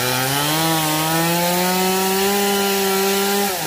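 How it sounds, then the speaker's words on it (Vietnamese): A chainsaw cuts into the trunk of a mu u tree in a garden, its engine droning loud and close in one steady, slightly falling pitch before easing off at the end. "Bây giờ từ từ cưa xuống."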